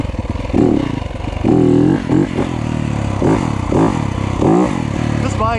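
A Yamaha YZ250F dirt bike engine revving in the woods, repeated sharp rising and falling blips close by, with a voice talking in between.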